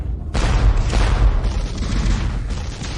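Cannon fire in a battle scene: a sudden heavy boom after a brief silence, then a sustained rumbling barrage of blasts and roar, loud and close.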